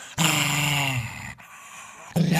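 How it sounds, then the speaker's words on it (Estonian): Dog growling and whimpering in a short clip, a close, fairly loud growl that fades and then starts again briefly, with no talking. "siin on teile üks vahva koera klipp"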